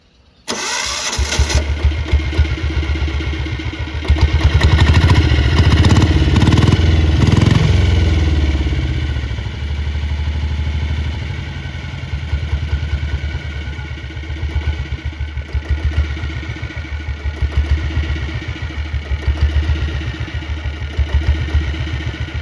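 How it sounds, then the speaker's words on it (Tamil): A Royal Enfield Bullet motorcycle engine with self start fires up with a loud burst, revs briefly, then settles into a steady, close, throbbing idle that runs on without any voices. "ஸோ இன்ஜின் சவுண்டும் சைலன்சர் அவுட் சவுண்டும் கேட்டிருப்பீங்க."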